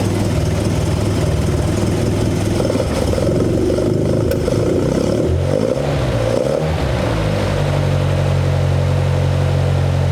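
A 1972 Toyota Celica engine fitted with a Mikuni 40PHH carburetor idles loudly and close up, with a steady low rumble and a brief unsteady dip in the middle before it settles.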